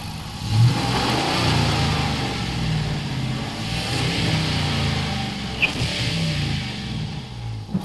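Dodge Charger Daytona with a 5.7 V8 Hemi running nearby, a steady, fairly quiet low rumble with a few gentle rises in revs, no talk over it.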